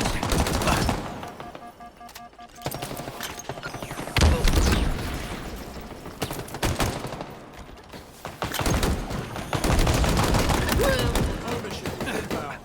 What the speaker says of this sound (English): That seems like a machine gun.